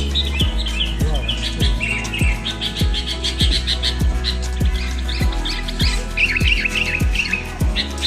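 Bright, rapid bird chirps repeat over a steady low hum, with regular rhythmic thumps running underneath.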